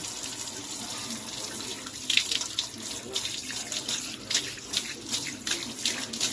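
Steady running water from a shower rinsing dirt off a cabinet part of a circa-1948 Hallicrafters S-38B vacuum tube radio, a continuous close hiss and splash with slight fluctuations throughout.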